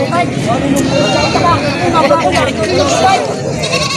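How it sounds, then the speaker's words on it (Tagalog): Several goats bleating at a crowded livestock market, wavering calls rising over loud nearby chatter and a babble of people talking throughout. "May mga kambing si tatay dito."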